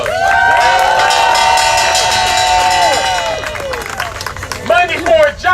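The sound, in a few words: applause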